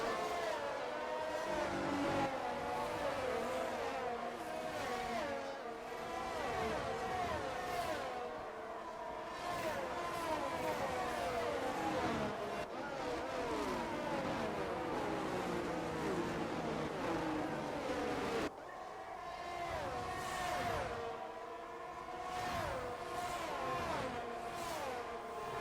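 Race cars in an F1 video game circulate at Austria's Red Bull Ring behind the safety car, a continuous loud layered engine drone with shifting pitch and revving, steady throughout with brief breaks.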